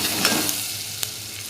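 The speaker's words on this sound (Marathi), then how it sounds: "आणि हे वाटण केलेलं हे पण चांगलं परतून घेऊ" Ground masala paste for chole sautéing in a pan, a close, steady sizzle with a few light stirring clicks.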